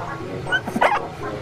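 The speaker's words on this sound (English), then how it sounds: "It's a baby dog, boys." A tiny puppy gives a few short yips and a whimpering bark up close, brief sharp calls over a quiet room.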